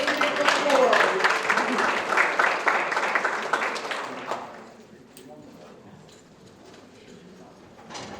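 An audience at a secondary school geography bee applauds loudly for about four seconds, then the clapping fades to scattered claps and room noise.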